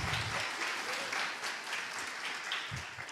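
Applause fills a church congregation for about three seconds, a dense, steady wash of clapping with a few low thumps underneath.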